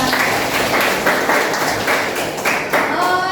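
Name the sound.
class applause for student Nadia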